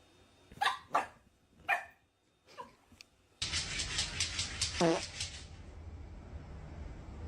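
A dog barks several times in short separate yelps at moderate distance, followed by louder noisy game-like sounds and a voice in the middle.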